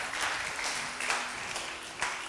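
Studio audience of a Ramazan quiz show applauding, a brief burst of dense clapping at moderate level with a few louder claps standing out.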